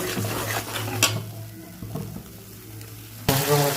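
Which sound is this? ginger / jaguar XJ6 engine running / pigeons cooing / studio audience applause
ginger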